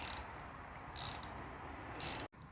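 A hand ratchet tightens nuts while a 12-ton Harbor Freight shop press is assembled at home, bringing three short bursts of close, rapid metallic clicking with quiet pauses between.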